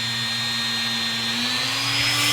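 A rotary tool whines steadily while polishing metal Glock trigger parts, a loud continuous high-pitched motor drone whose pitch rises slightly toward the end.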